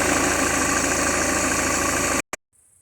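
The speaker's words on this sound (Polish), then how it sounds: "ponownie uruchomię silnik i będę czekał na reakcję" A Ford Kuga Mk1 engine idles with a steady, rapid chugging rumble after a coolant change, then cuts off abruptly, leaving a brief click and near silence.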